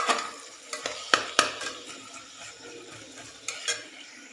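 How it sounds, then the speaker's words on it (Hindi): Onions frying in a pan for mutton biryani, with a soft steady sizzle broken by several sharp clinks and scrapes of a spoon stirring against the pan, close and without talk. "अब इसको फ्राई होने देते हैं प्याज को, कलर आने तक इसको फ्राई कर लेंगे प्याज को"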